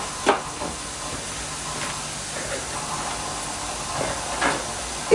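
Garlic sizzles in hot oil at the start of a tomato sauce for moussaka, a steady close hiss and crackle with a few soft clinks and bumps over it.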